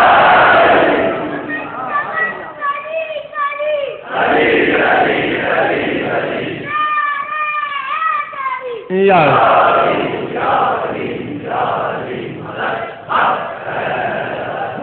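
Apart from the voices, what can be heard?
crowd chanting religious slogans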